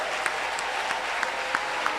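A church congregation at a French-language worship service claps in a steady rhythm, about six even beats across two seconds, fairly close, with a faint crowd murmur underneath.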